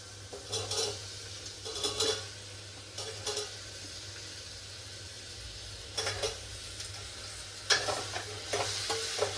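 Potatoes and soaked peas fry in oil in a pan with ginger-garlic paste, a steady low sizzle broken by several bursts of scraping and stirring, close and fairly quiet, with no talking.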